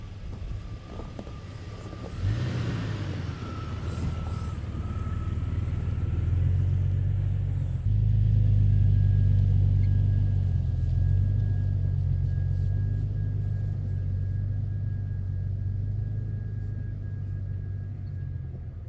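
Jeep Cherokee XJ creeping through a rut in two-wheel drive on a dirt trail, a steady low engine rumble that grows louder midway, with wind noise on the microphone and no talking.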